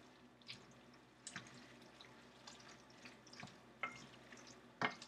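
Pasta is stirred through clam sauce in a pan, with soft, wet sloshing and scraping and a few sharper utensil clicks, close and quiet, a faint sizzle under it.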